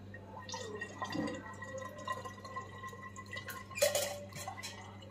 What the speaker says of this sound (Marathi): आता यामध्येच आपण हे पाणी ओतूया.